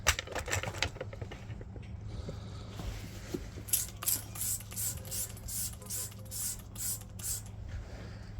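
Thick gel oven cleaner sprayed onto a rusty Ford Super Duty truck in a series of about eight short, evenly paced hissing bursts close by, over a steady low hum.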